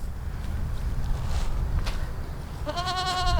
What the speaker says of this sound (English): You can see the goats are doing just fine.